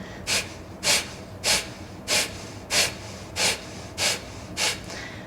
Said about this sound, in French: on va à nouveau prendre la respiration du feu et engager notre abdomen en vraiment le pressant autant que possible lors des expirations